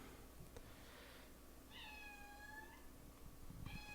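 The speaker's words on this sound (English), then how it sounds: "We have a kitty in the background." A cat meows several times in the background, faint and distant, with short rising and falling calls and no talk during them.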